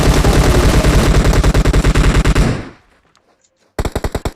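Loud, close automatic fire from a machine gun in the video game PUBG: one long rattling burst of evenly spaced shots fades out, then a short silence, then a second rapid burst starts.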